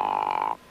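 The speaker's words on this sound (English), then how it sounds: "Frogs?" A cartoon frog gives one steady, loud, buzzy croak lasting about half a second and then cuts off abruptly into near silence.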